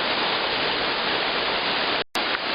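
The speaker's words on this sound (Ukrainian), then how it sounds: "От я стою безпосередньо в нижній частині водоспаду" Roar of a waterfall about 10 metres high, heard from its base at Narinets: a steady, loud, broadband rush of falling water that fills the whole clip, with only a brief dropout near the end.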